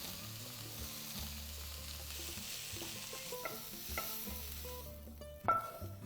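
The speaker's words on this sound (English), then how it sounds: "So I'm just going to add the greens now and just cook them until they wilt down a bit." Swiss chard greens cooking in a skillet for a potato frittata give a faint, steady sizzle with occasional stirring clatter, heard alone under background music.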